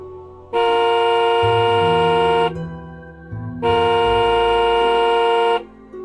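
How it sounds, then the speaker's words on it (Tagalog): Two long, loud blasts of a car horn, each about two seconds, separated by a short pause with engine rumble underneath. "Maya-maya pa, muli na naman itong bumisina."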